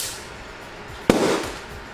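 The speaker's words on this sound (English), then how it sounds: "We'll start with a few normal, boring helium explosions." A single sharp bang from a helium balloon exploding bursts out near the middle, followed by a brief crackling tail, against quiet outdoor background.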